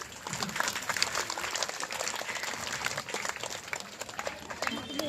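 A crowd claps along at a Thiru Vilakku devotional worship for Ayya Vaikundar in Dharavi, Mumbai, a dense, steady patter under singing and talk throughout.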